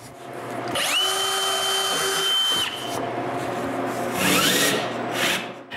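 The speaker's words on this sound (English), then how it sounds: "I begin by finding their center and drill a hole." A power drill bores a small hole in a wooden drawer front for a bandsaw base, a close whine that rises to a steady pitch for a couple of seconds, stops, then a second shorter burst of drilling and rubbing.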